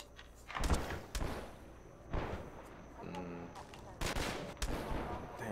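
Gunfire aimed at the player in Half-Life 2, with scattered bursts of shots and thuds arriving in uneven clusters, some louder and nearer, while someone speaks between them.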